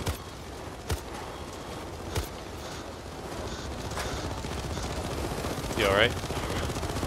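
Gunfire from enemies in the Payday 2 video game, several sharp shots early on and a busy burst near the end, under a steady game din while a player speaks briefly.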